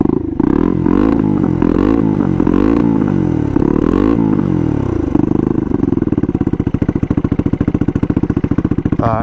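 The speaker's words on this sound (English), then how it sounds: "Every time I try to launch the bike, it, oh, she's loaded up." A turbocharged Honda Grom with a CBR engine swap revs hard in repeated surging bursts as it tries to launch, then falls to a loaded-up, rapidly pulsing rough idle, loud and close.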